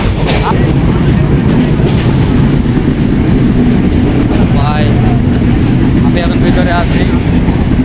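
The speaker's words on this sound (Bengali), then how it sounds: "ট্রেন রানিং হয়ে গেছে" Passenger train running with steady loud rumble and rhythmic clatter of the carriages, continuous throughout, with people talking nearby over the noise.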